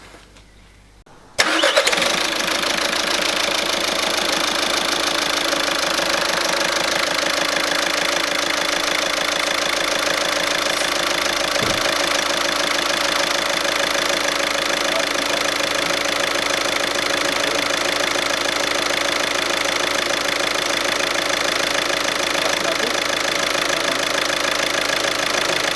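A Seat Leon 1.6 TDI 105 diesel engine cranks briefly and fires, then settles into a steady, loud, close idle with a constant clattering drone that holds unchanged for over twenty seconds.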